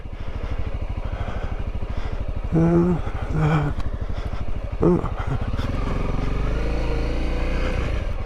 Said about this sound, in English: practicing their dirt bike turns here